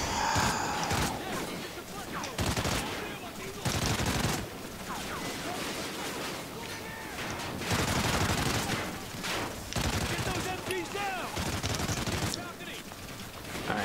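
Call of Duty Ghosts gunfire in a campaign firefight: repeated bursts and single shots that rise and fall over roughly fourteen seconds, loud and busy, with no speech.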